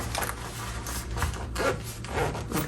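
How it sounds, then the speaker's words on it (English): Zipper pull sliding along the zipper of a sports duffle gym bag being sewn, a short close rasping rub repeated in a few quick strokes, heard alone with no talking. "pull this zipper all the way off"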